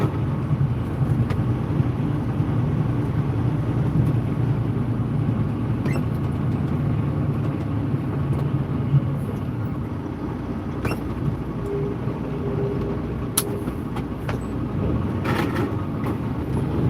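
A passing train holds up a truck in downtown Chicago, its steady low rumble filling the whole stretch at an even level, with faint clanks and squeals over it.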